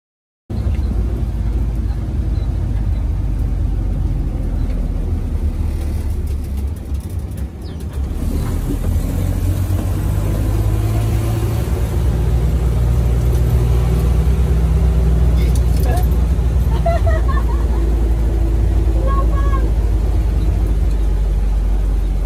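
A classic 4x4 car engine runs steadily for the whole stretch, a low, quiet, continuous rumble heard from close by, with faint voices now and then.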